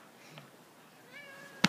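Domestic cat meowing, a faint high call early on, then a thin wavering meow and two sharp loud clicks at the end, close in a quiet room.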